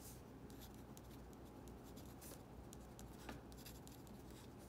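A Lamy Logo steel-nib fountain pen with an extra fine nib scratches across paper, faint soft strokes and quick ticks continuing quietly under a low background hiss.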